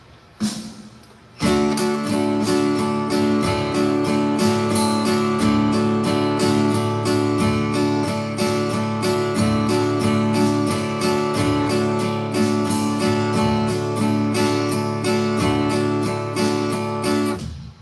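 Steady guitar strumming with a loping, repeating pattern of strokes in groups of three, down-up-down, loud and close, continuing without pause after a brief quiet start; no voices.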